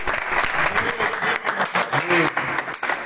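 Applause from a church congregation during a Spanish-language theology teaching, steady dense clapping with cheering voices mixed in, loud and close throughout.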